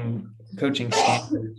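A single sharp sneeze bursts out in the middle of a conversation about coaching, with people talking before and after it at close range.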